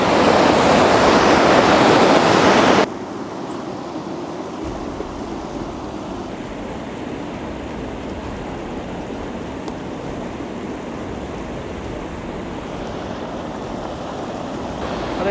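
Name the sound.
mountain river flowing down from Bankatiya Peak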